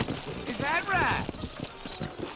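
Horse hooves clip-clop steadily in the Western video game Red Dead Redemption, with a brief whinny near the start and someone talking over the hoofbeats.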